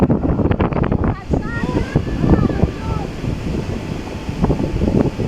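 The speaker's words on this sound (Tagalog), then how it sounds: "nakakatakot niya yung alon talaga dito" Rough ocean surf at Dingalan, Aurora, rumbles and washes continuously with strong wind buffeting the microphone, while people talk over it.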